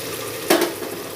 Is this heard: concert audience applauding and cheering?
no